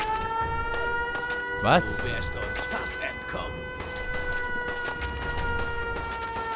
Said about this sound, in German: Sirene, na toll.